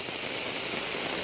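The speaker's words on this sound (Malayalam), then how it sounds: "മഴയാണ് കോഴിക്കോട്. കനത്ത മഴ." Heavy downpour in Kozhikode, a steady, dense hiss of rain pouring onto surfaces, loud and unbroken throughout with no voices.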